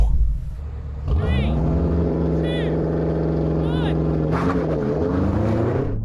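BMW M5 cars (F10, F90 and G90) revving and launching in a drag race, a loud continuous engine roar that rises sharply after a second and holds steady, with rising whine tones on top and people talking over it.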